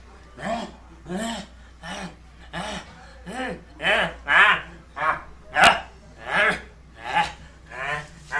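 A dog barks in a steady series of about a dozen evenly spaced, fairly loud, close barks, each a rounded voiced burst, over a quiet background.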